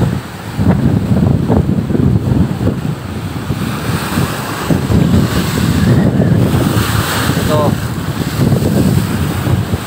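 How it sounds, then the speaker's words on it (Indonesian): Roaring wind and high ocean waves on the West Lampung coast: loud, steady surf crashing and rumbling under strong wind buffeting the microphone, with a brief voice barely heard in the roar. "suara gemuruh angin sama ombaknya seperti ini sahabat"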